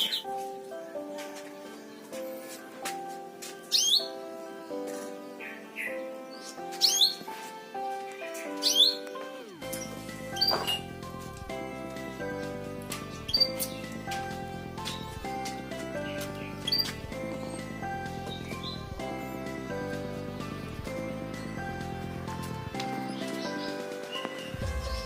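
Bright, high chirps and short trills from male and female canaries come in scattered bursts over a steady background of music.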